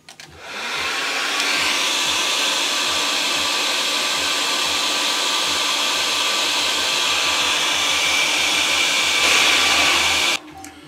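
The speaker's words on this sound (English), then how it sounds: "we'll put a hairdryer on and watch that spin" A hairdryer blows steadily for about ten seconds to spin a micro wind turbine, a loud, even broadband whoosh with a faint whine that starts and stops abruptly.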